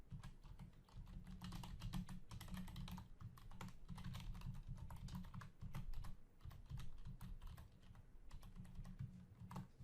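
Fingers tap quickly across a computer keyboard as a password is entered, producing a dense, steady run of soft clicks heard up close over a low background hum. Nobody speaks.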